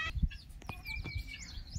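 Chickens on a rural farm with buffalo nearby, soft clucks and short chirpy calls heard quietly at a moderate distance, a few scattered notes over faint background noise.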